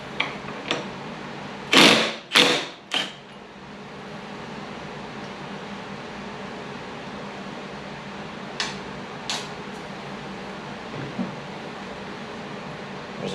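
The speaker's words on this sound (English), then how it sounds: "The nut that's holding this in place is a 17 millimeter, and I'm gonna hit it with the impact to get it to remove" An impact wrench hammers at a 17 mm nut on a 2002 Honda Metropolitan II scooter in a few sharp, loud bursts, followed by quieter, scattered short rattles against a low background hum.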